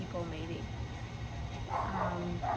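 A dog gives a few short barks and yips somewhat in the background of a room while a person keeps talking over it.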